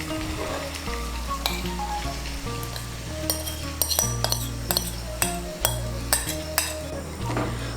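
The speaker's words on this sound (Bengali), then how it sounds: "মশলাটাকে তেলের সঙ্গে ভালো করে মিশিয়ে নেব" Ground spices sizzle and fry in hot oil for Bengali chicken chaap, with a steady crackling hiss and repeated clinks and scrapes of a metal spoon stirring against the pan.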